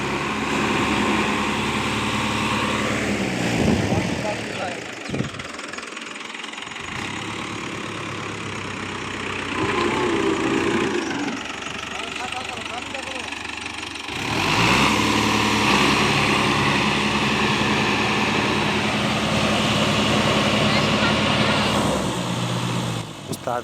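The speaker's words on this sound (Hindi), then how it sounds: "उस्ताद अभी ट्रैक्टर के ऊपर चढ़ चुका है। सामने इसके दरख्त हैं, पास में इसके वाटर है।" A tractor stuck near trees and water strains to pull a trolley free, its engine droning loud and close and rising in bursts of revving between steadier idling stretches, while people talk over it.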